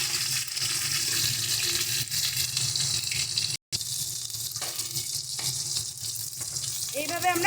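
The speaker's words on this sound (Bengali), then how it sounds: "এইভাবে আমরা সমস্ত মাছগুলোকে ভেজে নেব" Pieces of rohu fish sizzle steadily in hot oil in a pan, with a continuous close crackle that breaks off briefly midway and then resumes.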